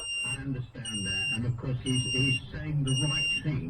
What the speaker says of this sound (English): the alarm keeps going off